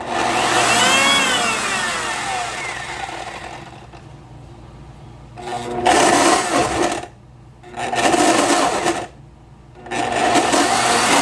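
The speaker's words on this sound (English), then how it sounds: "I'm going to use my Blend Tech, and I've got whole strawberries in here. We're just going to pulse it." Blendtec blender pulsing whole strawberries for jam, loud motor whirring in bursts that start and stop, with a longer initial run followed by several short pulses separated by brief lulls.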